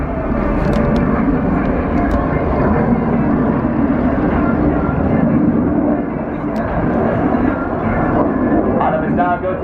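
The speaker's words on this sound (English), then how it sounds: "accelerating the aircraft up to 600 miles an hour for a high-speed pass" A display jet at the RIAT Air Tattoo airshow roars past in a loud, sustained rumbling wash of engine noise with a slight dip and swell, while a commentator talks over a public address system.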